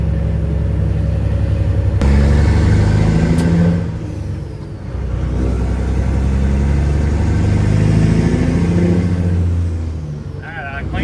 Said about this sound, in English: Driving my truck right now.